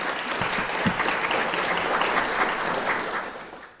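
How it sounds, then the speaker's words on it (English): An audience at an award reception applauds, a dense, steady wash of clapping that holds for a few seconds before tapering off at the end. "Let's give her a round of applause."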